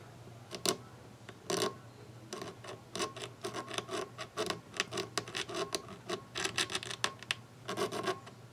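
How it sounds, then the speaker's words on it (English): A blade scrapes across the wood of a Harley Benton guitar, up close and fairly quiet, in irregular rasping strokes and short scratchy bursts with brief pauses between them. "Let's just scrape on this a little bit and see what happens."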